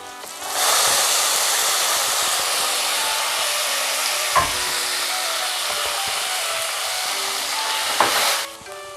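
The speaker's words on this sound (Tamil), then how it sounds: "இப்போ நம்ம தக்காளி ஆட் பண்ணிக்கலாம்." Tomatoes fry with sautéed onions in a pan for sambar, giving a steady loud hiss and sizzle that starts abruptly and runs throughout, with a couple of faint utensil clinks.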